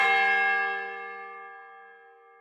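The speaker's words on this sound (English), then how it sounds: "And hit that bell." A single church-style bell strike rings out loud and clear, then its rich harmonic tone decays slowly over a couple of seconds with no other sound.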